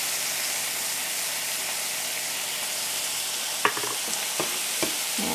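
Sauce with soy sauce is stir-fried in a pan for a puto pao filling, giving a continuous soft sizzle with a few sharp clicks of a utensil toward the end.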